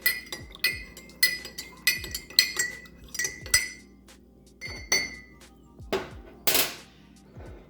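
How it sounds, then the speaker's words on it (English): Spoon stirring a fenugreek drink in a glass, giving a series of sharp, bright clinks at an uneven pace, close and clear against a quiet background. "So now we're just gonna give it a good stir."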